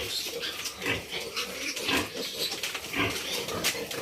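A litter of piglets squeals and grunts in a noisy, overlapping chorus while suckling from a sow in a farm pen, close and continuous throughout.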